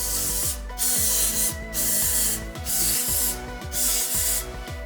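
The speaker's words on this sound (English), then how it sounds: "I'm gonna go ahead and spray with some olive oil spray" Olive oil cooking spray hissing from a can in repeated bursts, about five loud, close sprays separated by short gaps, each with a rattling mechanical buzz underneath.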